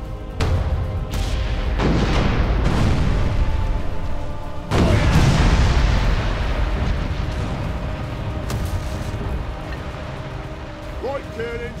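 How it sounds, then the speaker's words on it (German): Ship cannons fire a full broadside in the naval game Furious Seas, several heavy booms rolling out in quick succession with long rumbling tails, loud and close, with talk in between. "Volle Breitseite."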